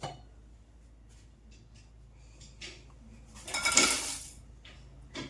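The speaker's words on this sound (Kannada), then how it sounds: "ಸೊ ಕಡಾಯಿ ಬಿಸಿ ಆಗಿದ ತಕ್ಷಣ ನಾವು ಮೆಣಸಿನ್ಕಾಯಿ ಹಾಕೊಳ್ಳೋಣ" Dried Byadgi chillies dropped into a hot, oiled kadai give one brief, bright rattle and crackle, with quiet kitchen clinks before it.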